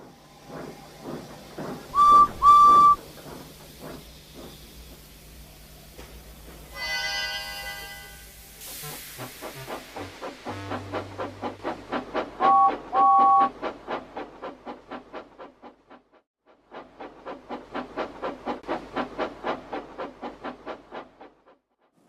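A steam engine gives two short, clear whistle blasts, then a goods train chuffs through the yard with rhythmic puffing and rolling wagons, passing in waves and then returning, with no talk.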